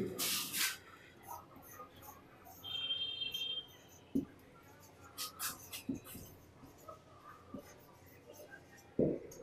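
Marker or chalk writing a sentence on a classroom board during an English grammar lesson, heard as scattered short scratchy strokes and taps with pauses, fairly quiet, no speech over it.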